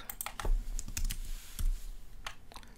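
Light computer clicks while answers are selected in a Microsoft Forms survey, a few soft, sharp taps at irregular intervals, quiet and close with no talking.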